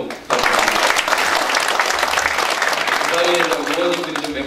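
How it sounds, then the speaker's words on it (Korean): A crowd at a Korean policy forum on financial industry development in Jeollabuk-do breaks into loud, sustained applause. A voice starts speaking over the clapping toward the end. "다시 한번 가시는데 박수 좀"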